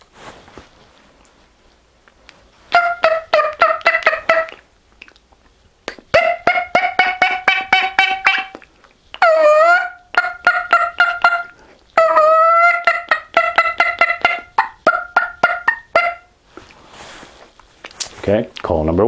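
A person imitates a turkey with a single-reed mouth call, producing bursts of rapid, raspy yelps and clucks separated by short pauses, close and loud.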